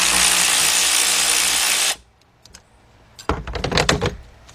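A bolt is removed from the radiator bracket of a 2006 Kia Sportage EX with a 2.7 engine: a power tool whirs loudly and steadily for two seconds, then stops, followed by quiet clicks and a burst of rattling ratchet strokes.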